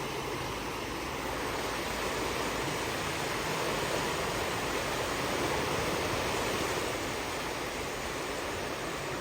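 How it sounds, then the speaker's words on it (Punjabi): Floodwater of the Sutlej roars through a canal in a constant, dense wash, like a swollen river surging nearby, steady and unbroken with no talking. "ਪਾਣੀ ਦੀ ਆਵਾਜ਼ ਦੇਖੋ ਕਿੱਦਾਂ ਆਉਂਦੀ ਆ"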